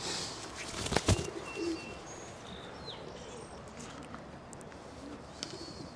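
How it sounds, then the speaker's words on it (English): Racing pigeons in a loft flap their wings in a brief loud burst near the start, followed by soft, faint cooing and light rustling in a quiet room. "They're not big pigeons."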